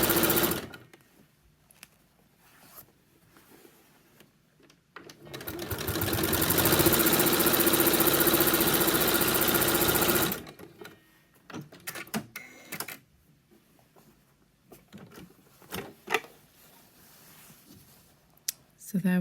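A sewing machine top-stitches along the edge of a laptop case panel in one steady, loud whirring run of about five seconds. Quieter handling clicks and fabric rustles come before and after it.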